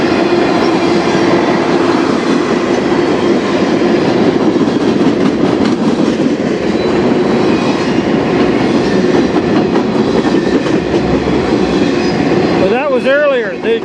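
CN freight train rolling over a rough, badly worn section of track in Sarnia, Ontario: a loud, steady rumble and rattle of wheels and cars passing close by, with a brief squeal near the end.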